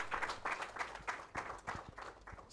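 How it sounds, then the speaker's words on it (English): At the launch event for TeamUp Uganda, the audience claps for the guest of honour, a faint, distant patter with a regular pulsing rhythm that continues steadily throughout. "let's give a big round of applause to our guest of honor"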